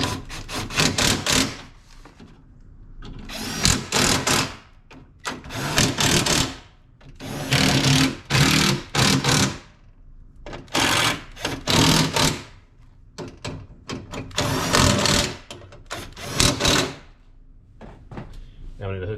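Power tool tightening a bolt on the front window regulator of a 7th-generation Honda Civic, heard as repeated loud bursts of whirring and ratcheting across the span, separated by short pauses, with talk nearby.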